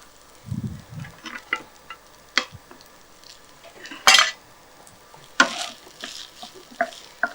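Chicken pieces go into a pan for Bihar-style chicken rice, bringing irregular close clatter of a utensil scraping and knocking the pan, with soft frying noise underneath and a few sharper metallic hits.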